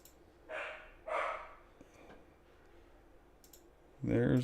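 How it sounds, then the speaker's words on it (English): A dog barks twice in quick succession somewhere off to the side, fairly faint and muffled. A louder burst of noise follows a few seconds later. "There's the dog barking."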